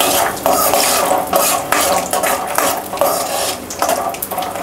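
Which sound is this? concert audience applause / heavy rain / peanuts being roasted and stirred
peanuts being roasted and stirred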